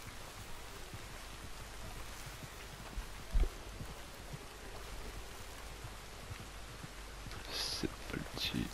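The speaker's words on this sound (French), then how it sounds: "Oh, il pleut." Rain falls in the open-world western game Red Dead Redemption 2 as a soft, constant hiss with faint scattered drops and a few light knocks, fairly quiet in the background.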